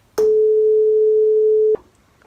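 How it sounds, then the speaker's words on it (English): A pure sine wave tone sounds as a single steady, clean pitch with no harmonics. It lasts about a second and a half with abrupt starts and stops. "here is what a note without any harmonics sounds like, just the fundamental pitch"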